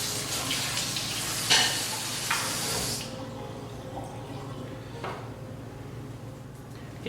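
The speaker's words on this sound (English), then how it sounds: "we just wash the beets without peeling it" Tap water runs over unpeeled beets in a sink for about three seconds with a broad, steady splashing hiss. It then stops, leaving faint handling clatter and a soft background hum.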